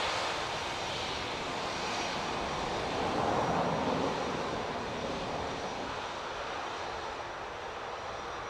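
Continuous broadband jet roar of a Ryanair airliner arriving at Dublin Airport from Birmingham, steady and fairly distant, swelling slightly midway, with no speech over it.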